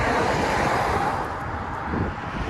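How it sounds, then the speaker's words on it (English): Outdoor wind buffets the microphone with a loud, continuous rumble and roar that holds steady throughout, with no other sound clearly audible. "it's a little windy"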